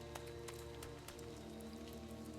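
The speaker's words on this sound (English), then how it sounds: "Perhaps they didn't hear us coming because of the rain." Rain pours in the isometric horror game Lamentum as a carriage arrives at an elegant manor, a steady dense patter with scattered sharper drops hitting surfaces, constant and fairly loud with no voices.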